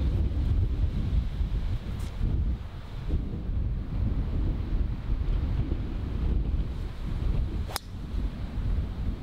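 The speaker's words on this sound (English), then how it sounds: "That is severe wind" Strong, severe wind on the Staddon Heights golf course buffets the microphone with a constant loud low roar and rumble, gusting unevenly and heard alone.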